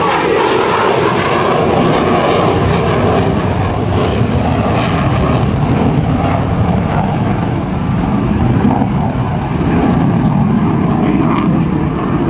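An F/A-18C Hornet fighter jet roars past at a military airshow with its landing gear and tail hook lowered, a loud, continuous broadband engine rush that holds steady throughout.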